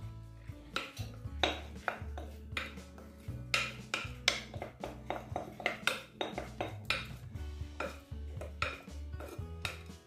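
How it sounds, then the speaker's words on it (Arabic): Vermicelli and fish are stirred together in a dish, producing repeated clinks and scrapes of utensil against dishware in an uneven rhythm. The sound is close and clear, with no speech. "غنزيد نخلط هاد الفيرميسيل مع الحوت"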